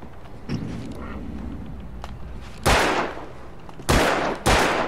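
Gunshots in the Alan Wake video game: three loud, sharp blasts spaced apart near the end, over a low ambient game background with scattered smaller sounds.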